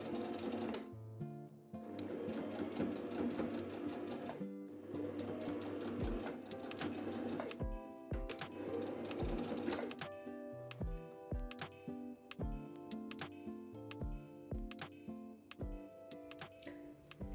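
A sewing machine stitches tote bag handles close by, a busy, steady mechanical whir that stops and restarts in short stitching bursts with clicks between runs.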